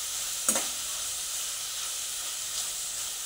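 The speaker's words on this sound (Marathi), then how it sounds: "आता आपण ह्याच्यामध्ये टाकून घेऊया बारीक चिरलेला टोमॅटो" Finely chopped tomato frying with ginger garlic paste for paneer bhurji, a continuous bright sizzle and hiss from the pan, with a brief louder crackle near the start and a faint stir later, no talking.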